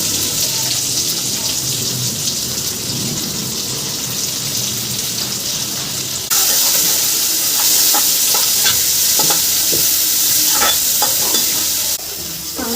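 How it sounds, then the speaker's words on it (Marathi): Garlic and onion fry hard in a pan over a high gas flame, a loud, unbroken crackling sizzle that grows louder partway through, with scattered sharp pops and scrapes of stirring. "लसूण मस्तपैकी अशी फ्राय करून घ्या"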